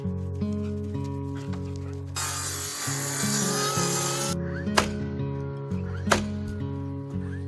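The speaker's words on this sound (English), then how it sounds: "So I'm going to go grab that plywood. We're going to start getting it cut and get it in place." Plywood sheets being cut for temporary cabin skirting during winter prep at an off-grid Maine cabin, a steady sustained saw burst of about two seconds followed by a couple of sharp knocks, with a low hum underneath.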